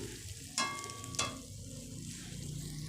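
Spices with turmeric and chili powder fry in hot oil, a soft low sizzle under two sharp metallic clinks of a spatula against the pan as the masala is stirred.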